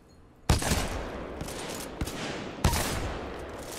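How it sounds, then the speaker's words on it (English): Rifle gunfire in the video game Titanfall 2, sharp loud shots in a few bursts with a long ringing decay between them, near and dominant with no talk over it. "this rifle is better than the machine gun"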